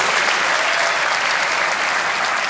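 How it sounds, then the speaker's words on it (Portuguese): An audience claps steadily at a Brazilian Ministry of Culture event, the applause dense, loud and sustained throughout with no speech over it. "eu quero uma salva de palmas também para a equipe do Ministério da Cultura"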